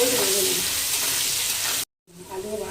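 Potatoes seasoned with salt and turmeric fry in a pan with a steady, close broadband sizzle that cuts out for a moment and then resumes.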